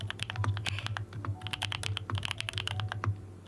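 Steady, rapid typing on a mechanical computer keyboard, with dense overlapping clicks and clacks of the keycaps at close range over a faint low hum, with no talking.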